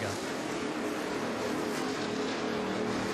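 NASCAR race cars at full speed on the Talladega superspeedway during the 2011 Aaron's 312, a steady, dense roar of engines and wind that holds level throughout without a break.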